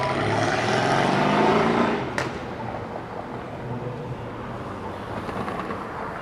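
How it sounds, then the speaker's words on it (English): A Plymouth Prowler rolls past on a busy downtown Toronto street: a broad, steady rumble swells for about two seconds, then drops away after a sharp click, leaving quieter street noise. "I do want to see this car roll by though."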